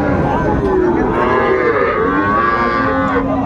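A young Friesian bull calf moos loudly and continuously at a busy cattle market, one long drawn-out bellow filling the short stretch with no talk over it.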